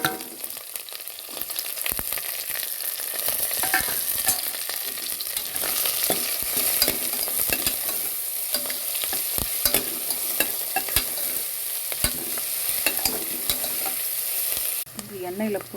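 Onion, crushed ginger and garlic, and curry leaves sauté in hot oil with a steady, continuous sizzle and frequent scraping stirs of a spoon against the pan throughout, close and fairly loud.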